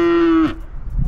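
A cow in a mountain pasture gives a single deep, drawn-out moo that breaks off after about half a second, loud and fairly close, followed by faint rustling outdoor noise.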